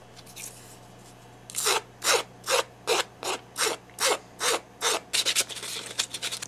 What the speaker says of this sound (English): See how I switch from the flat side of the file to the curved side of the file as soon as I come to a concave area of the pendant?